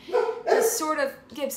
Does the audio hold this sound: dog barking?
yes